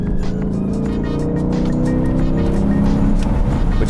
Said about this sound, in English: you get that growl, you get that deep throat that comes out of those quad exhaust tips